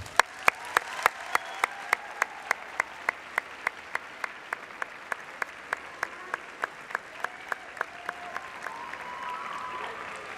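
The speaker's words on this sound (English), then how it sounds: "Please join me in giving your families a round of applause." Graduation ceremony audience: a steady wash of applause under crisp, regular loud claps close by, sustained at an even level.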